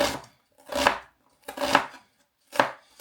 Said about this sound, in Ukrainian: Цибульку спочатку поріжемо, нарізаємо як помільче.